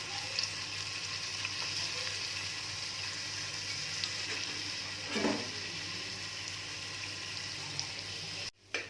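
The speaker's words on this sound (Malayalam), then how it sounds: "ഇനി നമുക്ക് ഓയിലിലോട്ട് ഇഞ്ചിയും വെളുത്തുള്ളിയും പച്ചമുളകും കൂടെ ആഡ് ചെയ്യാം." Ginger, garlic and green chili frying in hot oil for a mutton curry make a steady close sizzle, rising briefly in a stirred burst midway, then a short dropout and clatter at the end.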